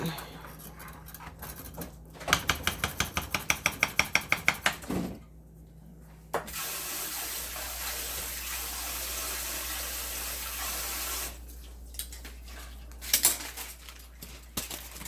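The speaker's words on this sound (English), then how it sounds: "I might need to add some more water too" Water runs from a tap into a cooking pot for chicken noodle soup in a steady broadband rush, with rapid clattering before and a person talking intermittently.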